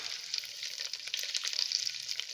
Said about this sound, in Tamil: இப்போது இந்த ஸ்பைசஸ்லாம் பொரிஞ்செடுத்து, முந்திரி பருப்பும் பொரிஞ்செடுத்து இதில்